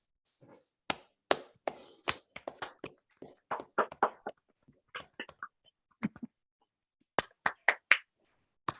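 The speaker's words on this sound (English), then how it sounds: "round of applause for Ale and other speakers" Sparse, scattered clapping from online meeting attendees coming off mute, a few individual hands slapping in uneven bursts separated by short silent gaps, close and clear with no talk.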